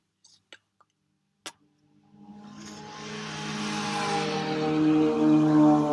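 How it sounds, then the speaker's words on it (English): A few faint clicks, then a car engine rises into a growing, strained whine that keeps building and gets louder through the end. "I know that the car made a weird sound."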